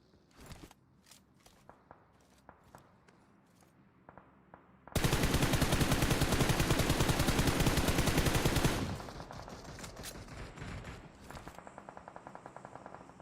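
Sustained automatic gunfire in PUBG Mobile during a North America scrim match: a dense, loud four-second burst of rapid shots, with scattered single shots and footsteps before it and lighter firing trailing off afterward.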